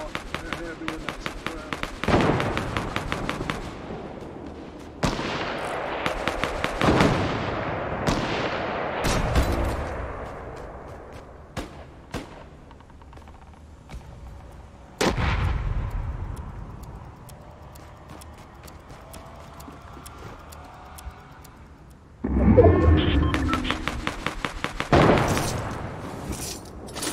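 Heavy sniper rifle fire in a shooter video game, several loud sharp booming shots spaced a few seconds apart with long decaying tails, amid other gunfire and a player talking.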